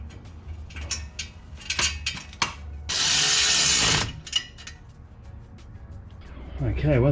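Close mechanical ratcheting from a hand ratchet tightening the bolts on a race exhaust being fitted to a car, coming in quick bursts of clicks with a longer loud run in the middle, while someone talks nearby.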